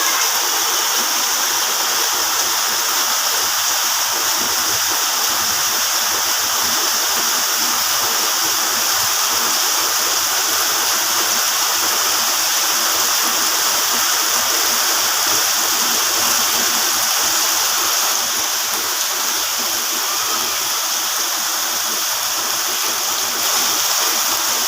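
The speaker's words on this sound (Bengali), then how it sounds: "ঝিরঝির বৃষ্টি এবং মধ্যম সাইজের বৃষ্টি" Light to moderate rain falls steadily around a house, a dense, even hiss of drops that holds at the same loudness throughout, with no voices.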